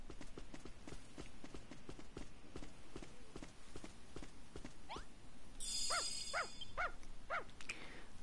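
A dog in the video game Dragon Quest Builders 2 gives several short, sharp barks in quick succession near the end, ringing out over steady clip-clop footsteps and a busy game soundtrack.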